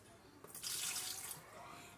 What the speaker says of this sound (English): Just need to dump out some of this water.